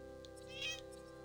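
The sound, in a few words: cat meowing in the Tales of Arise video game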